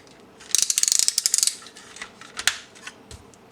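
Ratcheting joint on an oversized knock-off Transformers movie Megatron toy (SS109, TC01) twisted by hand, a quick run of about a dozen crisp plastic clicks followed by a few scattered louder clicks, close and with no voices.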